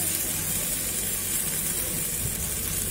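Potato fries sizzle steadily in hot oil, a dense, continuous hiss and crackle that stays close and even throughout, with no voices over it.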